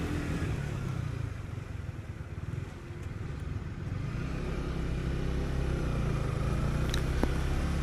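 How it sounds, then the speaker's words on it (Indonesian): Cars passing one another on a hilly road near Trawas, a steady engine rumble and road noise heard up close throughout, swelling slightly as vehicles go by. "ini contoh kalau mobil berpapasan ya"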